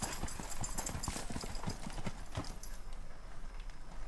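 Horse hooves clip-clop in a quick, uneven rhythm nearby during a ranch riding lesson, sharp hollow knocks over a steady outdoor hiss, fading a little toward the end.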